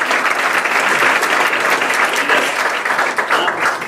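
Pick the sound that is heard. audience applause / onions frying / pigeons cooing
audience applause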